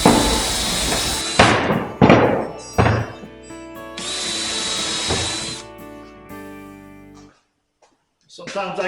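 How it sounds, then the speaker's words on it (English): Power drill pre-drilling screw holes in wood slats for a storage tote rack, several short bursts of whirring followed by longer drilling runs, close and loud, with thunks between. "what I'm doing now is just pre-drilling holes for the screws so that I don't split the wood"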